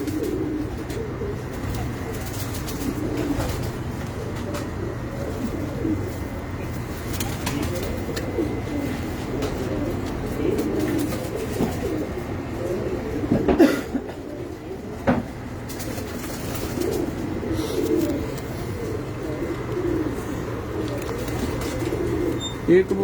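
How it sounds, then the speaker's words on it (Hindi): A flock of pigeons on a rooftop loft coos steadily in low, soft murmurs, with a few sharper knocks and flutters near the middle and faint voices in the background. "ये कबूतर है जी"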